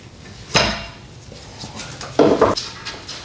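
Metal clanks twice, sharp and close, as a brake caliper comes off a Nissan Pathfinder during rear wheel bearing work, with fainter tool taps between them.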